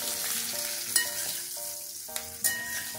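Green chillies frying in a pan for masala mirchi, a steady soft sizzle with occasional spatula scrapes and stirring clicks, close and fairly quiet, no talk.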